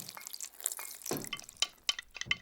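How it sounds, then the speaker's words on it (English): Water added to a big bowl of flour and salt for homemade Play-Doh: a short splashy pour followed by several wet drips and plops, close and moderately quiet in a kitchen. "Splash! Mum adds water to the bowl."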